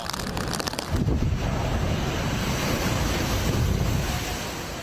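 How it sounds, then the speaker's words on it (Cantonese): Storm-surge waves driven by Typhoon Ragasa wash over the Tseung Kwan O waterfront promenade in Hong Kong, a loud, continuous roar of surf mixed with heavy wind buffeting the microphone, and no voices. "風暴潮令到水位急劇上漲，將軍澳海濱長廊海水直接湧上岸"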